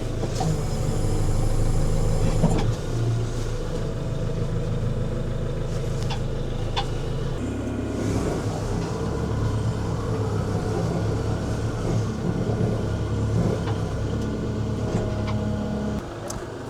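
Tractor drives steadily while planting in a field, its engine producing a continuous loud, low drone with a slight shift in pitch partway through and no talking.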